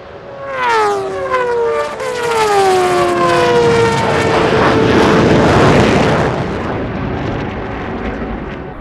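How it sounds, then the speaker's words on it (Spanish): A jet aircraft flies past at a Turkish aerospace technology festival, its loud descending whine sliding down in pitch as it nears and then giving way to a broad, sustained roar that slowly fades. "Kenan Sofuoglu, compitió contra un avión de combate F-16, un jet comercial, un automóvil de Fórmula 1 y otros tres autos de carrera"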